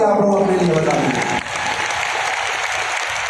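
Festival audience at a Delhi mahotsav breaking into loud, sustained applause that fills the space for several seconds, dense and steady with a brief dip partway through, with voices mixed in.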